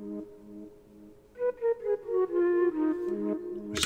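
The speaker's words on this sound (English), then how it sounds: "We added this flute" A flute melody in a melodic trap beat, a short phrase of sliding, breathy notes over a soft repeating background pattern, ending in a brief burst of noise.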